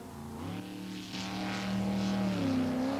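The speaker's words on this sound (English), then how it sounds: "The quickest boat was that of Rodney Pohio, who was certainly no stranger to winning jet sprints" Jet sprint boat engine racing through tight turns, a loud continuous roar that swells and changes pitch as the boat accelerates and swings through bends, with no talk.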